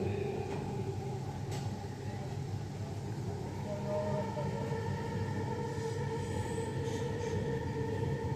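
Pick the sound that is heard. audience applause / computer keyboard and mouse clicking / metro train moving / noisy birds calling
metro train moving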